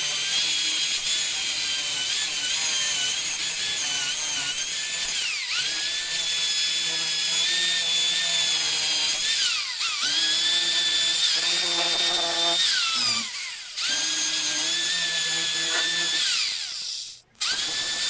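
A power tool knocking rust off a car part, a continuous loud high whine under load, its pitch dipping and recovering during brief pauses.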